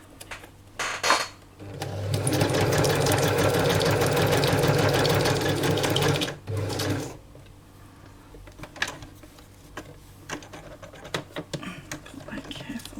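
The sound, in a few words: sewing machine stitching paper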